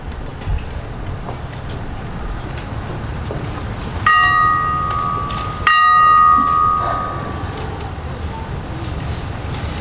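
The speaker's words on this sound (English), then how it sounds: "Bell, please." A single bell at a Vietnam memorial wall closing ceremony rings twice, a few seconds apart, each strike ringing out clearly and fading slowly over quiet outdoor background noise.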